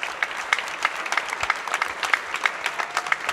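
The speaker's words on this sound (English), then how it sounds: "let's give a round of applause for our panel, please" A conference audience applauds a panel in a school event hall, steady dense clapping with rhythmic peaks throughout, moderately close and with no talk over it.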